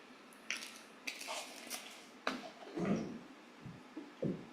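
A spoon scraping and clinking in a bowl while herbed butter for a turkey is stirred, giving irregular close taps and soft squishy smears with brief pauses and no talking.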